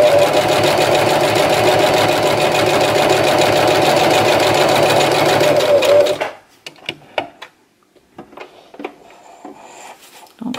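A sewing machine stitches a paper lace border, a fast, steady mechanical whirr that runs for about six seconds and then stops, leaving quiet handling clicks and rustles.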